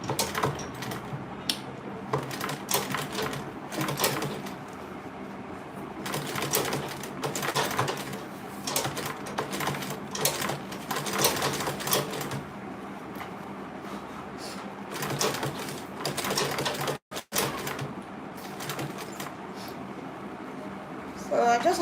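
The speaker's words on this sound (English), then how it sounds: "I'll back stitch" Struggling sewing machine back stitching a seam on a mini tote bag, a rapid rattling mechanical chatter running nearly throughout, close and steady, with a brief stop and restart, under a person talking.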